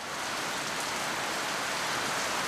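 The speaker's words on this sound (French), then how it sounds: "les Seychelles aussi, c'est joli dans la pluie quand même" Rain falling in the Seychelles, a steady, even hiss of dense drops with no breaks or voices, holding a constant level throughout.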